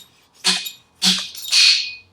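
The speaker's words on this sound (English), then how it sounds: "That's the sound of that bushing going home where it needs to be." Three metallic scraping, squeaking pushes in a row as a WP motorcycle fork bushing is driven into place, the last one longer and smoother, close up with no talking.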